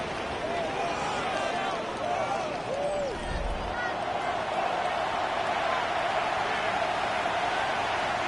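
Stadium crowd in the Madden 25 football video game, a steady, dense roar of many voices that holds evenly throughout, with a few brief rising shouts and whistles standing out inside it.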